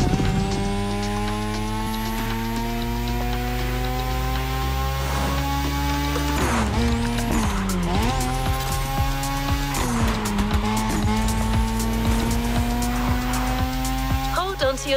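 A Lamborghini Huracan drives past with a sustained engine note and gliding pitch shifts as its tires squeal, loud and continuous throughout.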